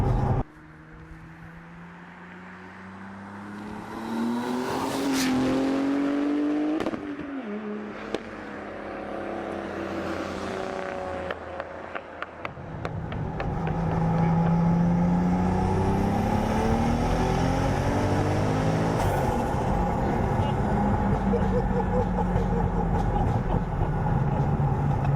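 A 520 bhp 2JZ-swapped Volvo 940 engine revving and accelerating hard, rising and falling roars with rapid climbing tones and sharp pops, growing louder and more sustained in the second half.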